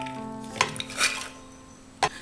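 Soaked chickpeas being moved into a pressure cooker, a few sharp metallic clanks and scrapes of utensil against the pot, spaced apart over a quiet kitchen background.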